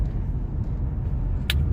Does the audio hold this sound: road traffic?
yes